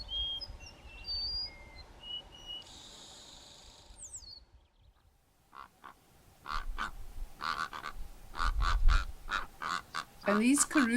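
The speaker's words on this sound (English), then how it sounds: "these karukorans are duetting in an asynchronous way" Karoo korhaans duet out of step, trading loud, rhythmic croaking calls that grow denser and stronger toward the end, after a quieter stretch of distant birdsong.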